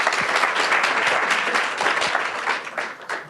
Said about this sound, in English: Big round of applause, please, for Matt Van Horn.